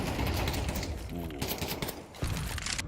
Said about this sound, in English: Bullets sail past MongolZ as he locks in mid-box.